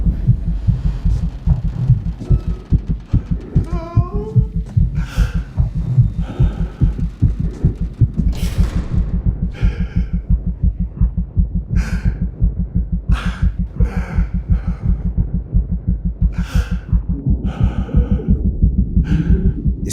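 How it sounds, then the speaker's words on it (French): Recorded heartbeat of an actress for a scene in the horror film Longlegs: a steady, loud, low double-thump pulse repeating throughout, with faint higher tones and a brief breath-like sound layered over it. "Ce sont les battements de cœur de Maika Monroe qui ont été enregistrés pour l'occasion."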